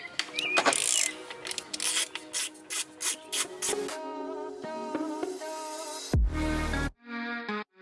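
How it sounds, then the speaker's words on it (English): Ratcheting clicks and whirring from a driver removing T27 Torx bolts on the charge pipe of a BMW B58 engine, in short close bursts with gaps between them. "use a T27 Torx to pop the 3 bolts out here"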